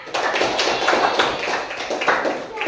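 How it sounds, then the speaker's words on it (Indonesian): A classroom group claps hands in a loud, close, uneven burst lasting under three seconds, with a faint voice mixed in. "Nah, kasih tepuk tangan."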